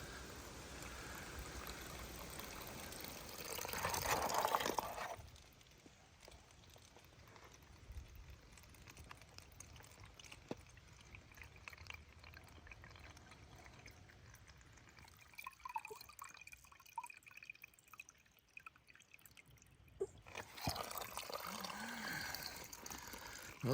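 Cool spring water trickles steadily from Pipe Spring beside the Appalachian Trail in Vermont, a soft continuous flow and drip heard close by with no talking, briefly louder near the start and end.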